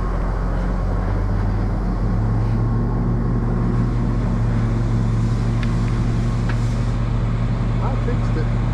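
A John Deere 8330 tractor engine runs steadily with a deep, continuous low rumble and droning hum throughout, with voices talking over it.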